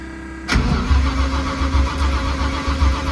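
A car engine on a cold 50-degree day, weakened by a low battery, fires up abruptly after a short stretch of quiet, then settles into a loud, rough, uneven idle close by.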